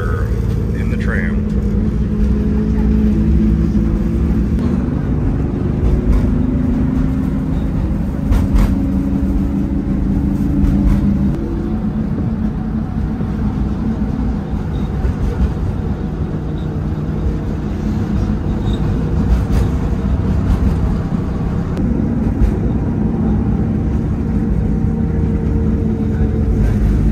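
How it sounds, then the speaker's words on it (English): A steady rumbling tram ride over a bridge above water in Budapest, wheels and motor droning continuously with occasional clanks, while people talk over the noise. "We're going over the water in the tram."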